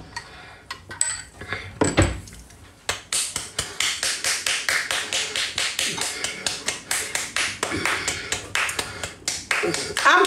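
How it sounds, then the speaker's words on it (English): A long run of quick, steady hand clapping starts after a few scattered claps and keeps an even rhythm, close and fairly loud, with faint background voices. "I'm clapping for kapumpum"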